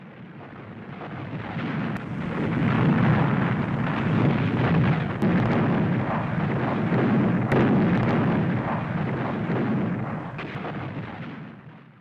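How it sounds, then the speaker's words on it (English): Heavy artillery fire and explosions from a World War II desert battle at El Alamein, 1942, a dense continuous rumble of booms with sharper cracks punching through, loud and sustained throughout. "They also faced heavy enemy fire."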